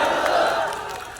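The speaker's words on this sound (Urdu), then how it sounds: "نعرے وغیرہ نہ لگاؤ" A crowd at a religious gathering chanting a slogan in unison, one loud collective shout that swells and then fades away.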